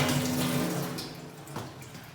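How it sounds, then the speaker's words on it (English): Cold tap water runs through a split-system air conditioner filter as it is rinsed: a soft, brief splashing stream, fairly quiet and close, with a small gurgle partway through. "I ran the water through in the reverse direction to what the dust and grime is on the filter"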